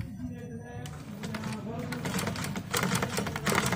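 Sewing machine stitching fabric, a fast, steady mechanical rattle that builds after a brief pause and runs continuously, close by, with someone talking over it.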